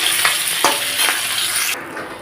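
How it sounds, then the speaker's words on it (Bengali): Fish heads fry in hot oil in a wok, a steady loud sizzle with a few sharp stirring scrapes, the sizzle dropping off abruptly near the end. "তো মাথাগুলো না আমি এরকম উল্টে পাল্টে ভেজে নিচ্ছি"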